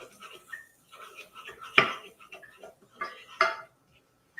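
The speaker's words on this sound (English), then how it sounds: "I'm going to add in the garlic. And just move that around the pan" Garlic stirred around a pan in melted butter, with sparse clinks and scrapes of a utensil against the pan, two sharper knocks standing out, and quiet gaps between.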